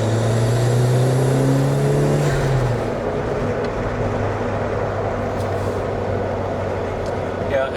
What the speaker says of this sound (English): you can definitely hear that spooling is really nice there.